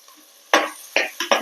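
Sliced onions tipped into a large pan for hotel-style salna, quiet at first, then four sharp scraping and stirring bursts with a brief sizzle, close and alone.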